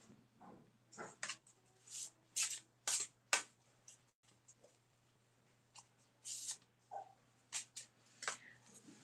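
Tarot cards shuffled and drawn during a live reading, giving a run of crisp snapping and sliding flicks in irregular bursts with short pauses, close and fairly quiet over a steady low hum.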